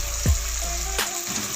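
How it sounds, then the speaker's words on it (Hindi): Water splashes into a sizzling tomato, garlic and ginger masala paste in a pan, a short pour with a hiss of frying at the start, then a quieter simmer. "इसको थोड़ा सा भून के फिर इसमें मैं थोड़ा सा पानी ऐड करती हूँ"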